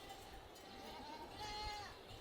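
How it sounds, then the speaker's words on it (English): A newborn baby goat bleats with a thin, wavering cry, moderately close, over faint background voices. "we could hear like a little baby goat screaming"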